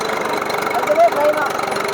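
Tractor engine idling at a steady low rumble, with a person talking over the continuous running sound.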